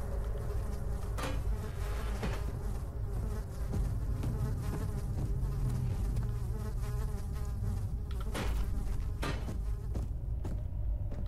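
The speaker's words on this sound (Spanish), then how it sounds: "¿Por qué ahora hay moscas acá?" Flies buzz continuously in the game Amnesia: The Dark Descent, a dense droning hum that fills the scene with no talk over it.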